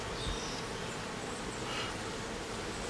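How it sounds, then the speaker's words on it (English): Agitated honeybees buzzing during a colony removal, a dense, continuous swarm drone filling the air close by with no pauses. "Pissy bees, people."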